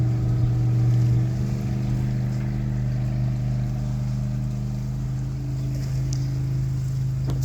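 Envision motorboat on Lake of the Ozarks, its engine a steady low drone that holds near-constant as the boat pulls away into the distance, with faint water and wind noise around it.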